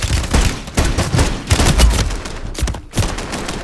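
Rapid bursts of gunfire from the video game Call of Duty Modern Warfare 3 fighting around a beach club building, several sharp close shots and volleys crackling in quick succession over a few seconds.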